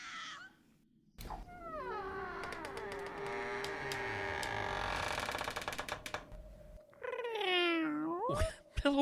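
A cat meows in a long, drawn-out, rising and falling cry, loud and close, followed by a shorter second meow after a brief gap, with a doorbell-like chime in the mix.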